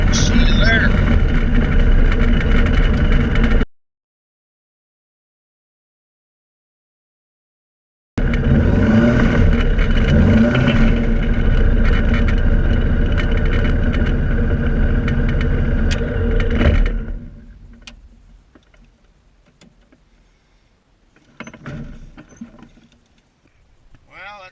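A Bush Cat light aircraft's engine drones steadily and loudly while taxiing toward a barn, cut off by a brief silent gap, then continuing before dropping away to quieter ground noise with faint rustles near the end.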